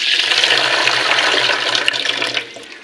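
Tap water runs steadily into a pot of rice being rinsed for cooking with fish and jackfruit seeds, a close, full gushing wash that eases off near the end.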